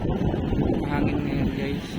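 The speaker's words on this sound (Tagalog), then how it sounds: "Mahangin ngayon guys." Gusty wind buffeting the microphone, a constant low roar with airy hiss on top, loud and close.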